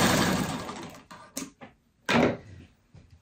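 A home sewing machine stitches quilting fabric in short bursts, first a sustained whirring run, then brief stop-start pulses and one more loud burst, close and alone with no talking.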